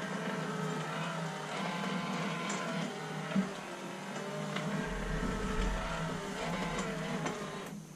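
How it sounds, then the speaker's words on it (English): A Tekky Toys Floating Monsters Grim Reaper toy mechanism runs steadily with a buzzing, whirring motor hum and faint clicks, continuous throughout with a brief tick partway through. "Now you can know what the mechanism for floating monsters sound like."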